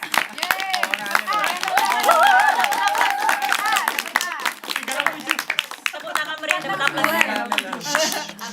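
Dense, loud audience applause from a gathered crowd at a village event, many hands clapping continuously with cheering and chatter mixed in throughout.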